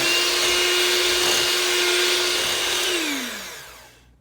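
A kitchen blender whirs steadily at high speed through homemade eggnog with granulated cane sugar, a loud continuous motor roar that holds level before the pitch sags and winds down as it is switched off.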